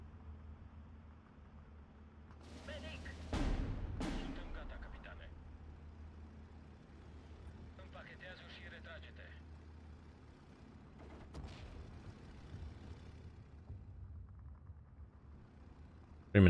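Bombs burst in the Steel Division 2 strategy game: a couple of sharp, booming blasts close together, then a long, low rumble of engines and battle noise.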